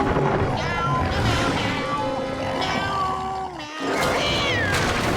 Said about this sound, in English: only Gary is present on the fence, but he's singing the exact same song